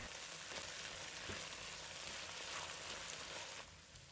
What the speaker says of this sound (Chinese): 把它炒出酱香味。